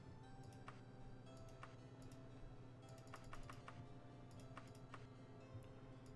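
Rapid computer mouse and key clicks from repairing items in Daggerfall come in short bursts over steady background hum, close and fairly quiet, with no talking.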